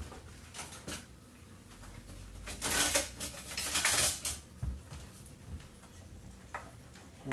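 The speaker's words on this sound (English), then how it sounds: "We're just going to whisk it together." Whisking a thin batter for cauliflower wings in a bowl, heard as quick irregular ticking and clinking of a whisk against the bowl, fairly faint, with a few louder scraping bursts and no talk.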